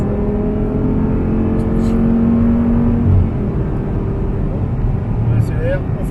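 An Audi R8 on a race circuit, engine droning and revving steadily as it accelerates and brakes hard, heard from inside the car under continuous instructor talk.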